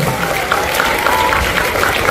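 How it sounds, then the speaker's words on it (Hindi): Audience applause at an Eid-e-Milad speech competition in Bhusawal for a schoolgirl winning second prize, a dense steady wash of many hands clapping at moderate loudness throughout, with a faint voice now and then underneath. "एक बार जोरदार तालियां"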